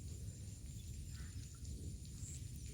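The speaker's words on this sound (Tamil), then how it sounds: "மழை பெய்யுது" Rain falling outdoors during a fishing trip makes a faint, steady hiss over a low background rumble, with no voices.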